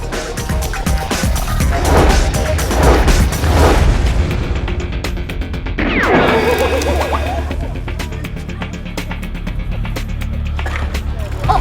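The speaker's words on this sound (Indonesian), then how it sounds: "hancur ya tuh motor" A motorbike smashed and wrecked in a crash in an animated cartoon episode, heard as loud, continuous crashing and booming with splintering, wood-like impacts throughout.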